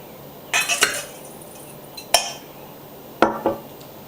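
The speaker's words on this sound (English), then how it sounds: "and I will stir them together." A utensil stirs a bourbon marinade of brown sugar, ginger, soy sauce, Dijon mustard, minced garlic and olive oil in a dish, giving a few close clinks and scrapes in separate bursts with quiet gaps between them.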